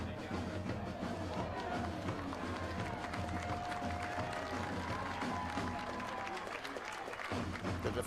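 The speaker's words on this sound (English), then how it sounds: "draws an ovation from the crowd here" Crowd applause and murmuring at a Chattanooga FC versus Alabama FC soccer match, a steady wash of clapping and cheers from a large stadium audience, continuous and moderately loud with commentary faintly underneath.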